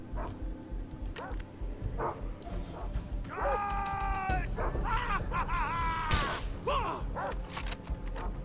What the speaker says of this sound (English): that dog barking actually